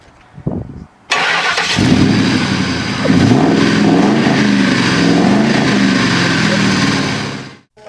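An old car engine cranks briefly, catches and starts, then runs loud and rough with uneven revving before cutting off.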